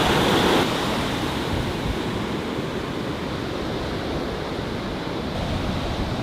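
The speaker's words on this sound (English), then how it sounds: "Right now, I'm gonna show you guys the beautiful ocean. Water's very beautiful." Ocean surf breaking on a beach in Sri Lanka, a steady loud wash of waves with some wind rumble, slightly stronger at the start and no voices.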